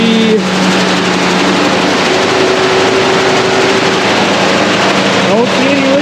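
A 1979 Ford F-250 pickup with a newly fitted radiator starting and settling into a loud, steady idle close by, with a brief cranking sound at the start and a voice talking over it.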